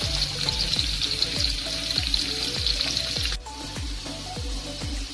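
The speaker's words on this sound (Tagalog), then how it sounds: "Iprito natin siya until maging golden brown in color." Four medium potatoes and carrots, cut into cubes, fry in hot oil for chicken mechado, giving a steady sizzle heard under background music with a regular thumping beat.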